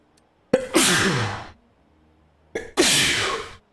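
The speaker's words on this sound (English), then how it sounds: "Gotta sneeze." Two sneezes close to the microphone, each with a sharp breathy burst followed by a trailing exhale, separated by a short pause.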